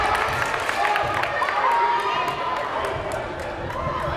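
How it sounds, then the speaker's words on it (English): Home crowd at a Renaissance high school boys basketball game against Mahar roars steadily throughout, trying to distract a free throw shooter late in a close game, with sustained loud cheering, shouting and a few faint ball bounces. "Renaissance crowd roaring here, trying to distract him"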